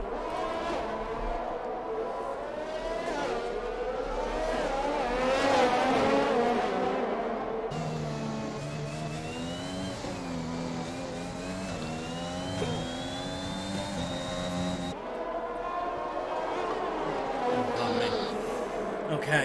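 Formula One cars in the F1 2021 racing game at the Hungary round whine loudly and sweep down in pitch as they brake and shift, a continuous layered engine roar.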